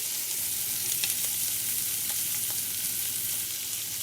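Shrimp for tacos fry in a hot pan with a steady, close sizzle and crackle that continues without a break, and a few faint clicks sit on top of it. No one speaks.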